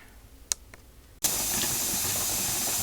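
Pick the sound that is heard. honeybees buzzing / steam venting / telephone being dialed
steam venting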